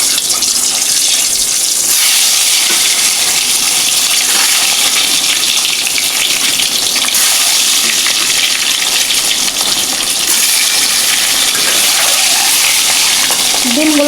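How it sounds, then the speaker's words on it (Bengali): Eggs frying in hot oil in a pan for a green banana and egg curry, giving a loud, steady hiss and crackle that runs unbroken from start to finish. "ডিমগুলো সব লাল করে ভেজে নেব।"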